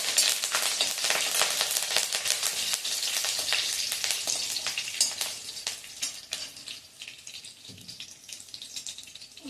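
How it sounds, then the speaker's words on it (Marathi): Curry leaves and green chillies sizzling loudly in hot oil for vermicelli upma, an intense close crackling that gradually eases, no voices. "मिरच्यांचा जरा रंग बदलला की त्यामध्ये कढीपत्ता घालायचा आहे"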